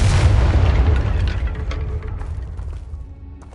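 A Confringo explosive spell blast in the video game Hogwarts Legacy hits as a loud, deep boom that rumbles and decays over about three seconds, scattered crackling debris sounds trailing behind.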